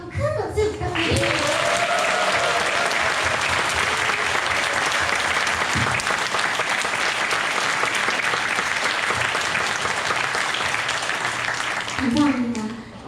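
Concert hall audience applauding a pianist after a violin performance, a long loud burst of sustained clapping that swells after a few spoken words and fades out near the end, with speech over the opening and closing moments.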